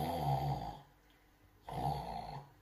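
A storyteller's voice mimics a sleeping mother bear's snoring, two long throaty snores with a pause between them, close and clear with nothing else heard.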